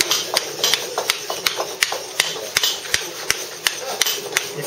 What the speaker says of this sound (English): go along for a few taps of the chisel, take a bit of the waste off